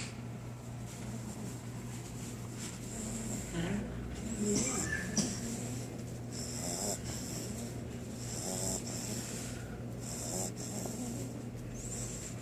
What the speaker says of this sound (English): You're snoring too loud.